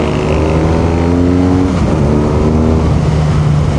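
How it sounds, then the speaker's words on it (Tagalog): A BMW R nineT Urban GS motorcycle engine and exhaust, loud and close, a throaty steady drone that rises and falls in pitch as the rider changes speed. "Sarap ng tunog, no? Solid ng exhaust niya."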